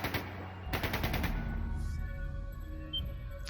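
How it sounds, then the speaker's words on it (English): Rapid bursts of automatic gunfire from The Legend of Heroes: Trails of Cold Steel II, a dense rattling volley early on that trails off into ringing echoes and a quieter ambient hum. "That sounded like gunfire."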